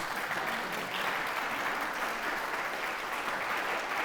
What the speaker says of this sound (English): A round of applause, please, for Claire Tabouret.